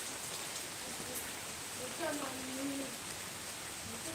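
Rain falls in a steady hiss on leaves, evenly loud throughout, with a faint voice-like sliding tone briefly rising under the patter.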